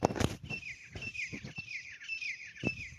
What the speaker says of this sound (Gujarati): મારા ચકલા બહુ છે